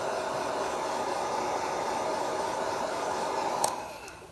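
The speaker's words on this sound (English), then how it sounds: "I'm just going to heat gun here." A heat gun blowing steadily over fresh clear coat, giving a constant close, breathy whoosh that holds evenly and then cuts off near the end.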